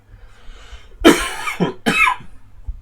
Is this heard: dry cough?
yes